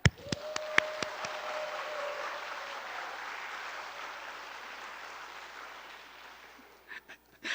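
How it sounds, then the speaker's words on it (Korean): Congregation at a Sunday church gathering claps, starting with a few sharp claps that swell into soft, steady applause and fade away, heard at a distance in a fairly quiet room. "청년 전사들한테 박수 한번 보내요."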